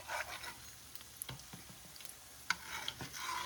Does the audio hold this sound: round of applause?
no